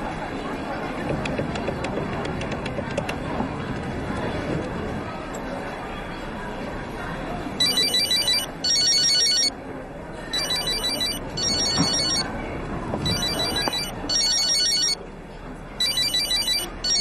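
A telephone rings in repeated bursts after a call is dialed, the ringing pattern recurring through the second half, over ongoing dialogue and background noise in a Chinese drama scene.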